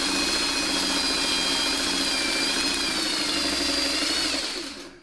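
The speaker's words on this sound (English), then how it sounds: "We're just going to run this last seam through" A sewing machine runs a quilting seam through a small kaleidoscope block, a steady continuous mechanical whir with a high motor whine that holds throughout and trails off at the very end.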